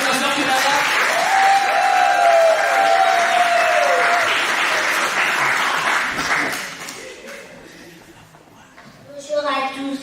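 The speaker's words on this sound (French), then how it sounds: "On applaudit pour la sœur Kenana." A church congregation at a Sunday-school day event claps loudly for sister Kenana, the applause holding steady for several seconds before fading away, followed by a brief quieter stretch and a voice starting to speak.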